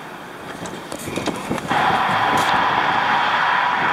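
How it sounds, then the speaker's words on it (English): Highway traffic roars steadily beside a dumpster stop, a broadband rushing wash that swells noticeably louder partway through and then holds, with no talking. "Sorry about the highway noise."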